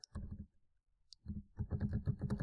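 Rapid bursts of computer keyboard keystrokes as a command is typed, clustered in quick rhythmic runs separated by a short pause, close and fairly clear with no talking.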